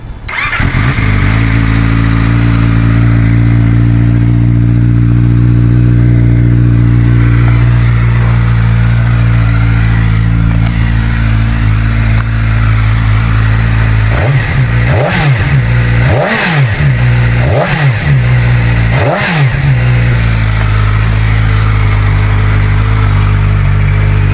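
A CFMoto 500SR motorcycle engine starts and idles steadily up close, then gives four quick sharp throttle blips in a row near the end.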